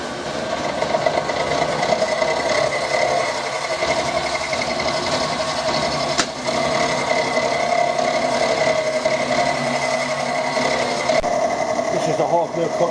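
Milling cutter taking a half-millimetre cut along the slot of a vintage saw guide, a steady continuous machining drone with a sharp tick near the middle, while someone talks over it.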